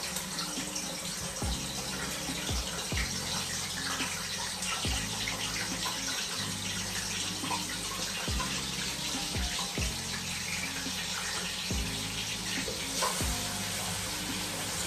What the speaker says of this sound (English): So you're going to allow your onions to fry, because when your onion fry, it releases a flavor into the oil.